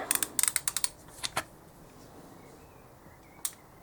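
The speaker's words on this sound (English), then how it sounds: "So we set our torque wrench to 12 Newton meters," A torque wrench set to 12 Newton meters tightens the cylinder bolts on a pit bike. It makes a quick run of light, close ratcheting clicks, then goes quiet before one last faint click.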